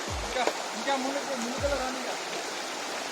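Water rushes strongly at a waterfall stream swollen by recent rain, a steady broadband roar heard at a distance, faint under people talking.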